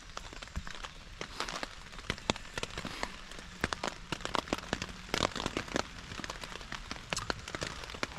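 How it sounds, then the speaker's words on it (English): Rain patters steadily on a LanShan 2 tent pitched in woodland, with dense irregular drops and sharper taps close by the fabric. "It's quite a relaxing sound though, isn't it? Rain on a tent."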